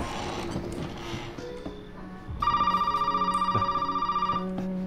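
A phone rings in the Resident Evil video game, a pulsing electronic trill that starts abruptly and repeats for about two seconds over game ambience.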